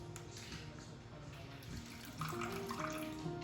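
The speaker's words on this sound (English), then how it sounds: "Then you want to pour just a little bit of water in." A little water poured into lime crema made with squeezed lime, a soft steady splash and trickle that gets slightly louder partway through, close by with no voices.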